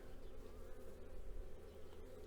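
Honeybees buzz in a steady, dense hum during a hive frame inspection in early March, a close, continuous drone with no talking.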